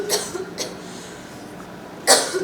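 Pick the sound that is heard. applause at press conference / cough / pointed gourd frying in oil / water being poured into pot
cough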